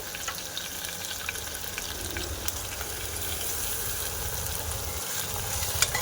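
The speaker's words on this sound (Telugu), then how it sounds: "పప్పు కూడా మంచిగా ఫ్రై కావాలి కదా" Dal frying in a pan with onion and ginger paste for tomato dal, giving a steady, dense sizzle throughout with faint stirring scrapes and no talk.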